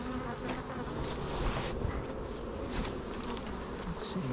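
Honey bees swarm around an opened hive during a honey harvest, producing a dense, steady buzz close to the microphone that keeps going without a break and with no talking.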